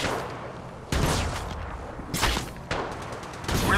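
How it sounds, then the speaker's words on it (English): Gunfire in Apex Legends Mobile: several loud bursts of close shots, each sharp onset followed by a rattling tail, with short gaps between them. "Opening fire."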